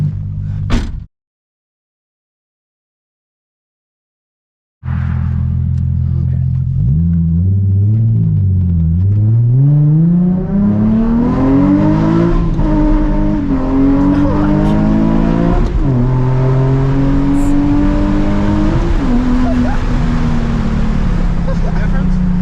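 After a brief pause, a Nissan 350Z HR sports car engine roars up and climbs through rising revs, pulling hard and loud with gear changes, close by.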